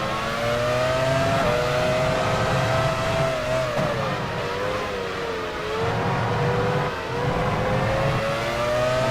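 Formula One race cars in the racing video game F1 Challenge 99-02 give a constant loud engine whine that rises and falls in pitch with gear changes and braking, heard alone without speech.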